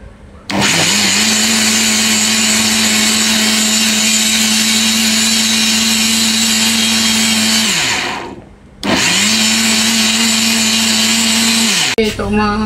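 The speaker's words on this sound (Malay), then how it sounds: "Ini Tok Mak blender dia punya daun pandan dia." Loud, steady high-speed whir of a kitchen blender chopping pandan leaves, running for several seconds, briefly stopping, then starting again with the same sustained motor roar.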